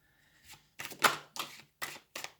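Tarot cards are shuffled in several quick, crisp riffling bursts, each a short papery flutter separated by brief pauses.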